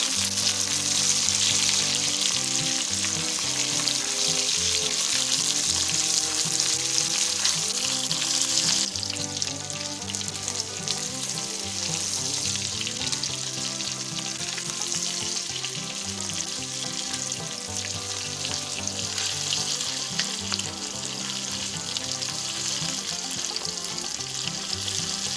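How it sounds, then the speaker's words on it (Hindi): Mutton pieces fry in a hot pan for a chana dal curry, a loud, steady sizzle with occasional stirring that carries on unbroken, close up, with no talking. "गोश्त को अच्छी तरह फ्राई करेंगे।"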